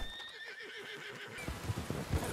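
A horse in Red Dead Redemption 2 Online gives a long, falling whinny, then hooves clop and shuffle over the ground. It is moderately close, with no talk over it.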